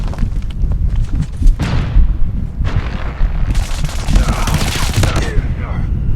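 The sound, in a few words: gunfire from MX9 submachine gun in video game Call of Duty Mobile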